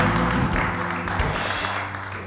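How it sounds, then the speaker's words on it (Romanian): Studio audience applauding contestants on a Romanian TV variety show, a dense continuous wash of clapping that holds steady and tapers slightly toward the end. "aplauze pentru concurenții noștri"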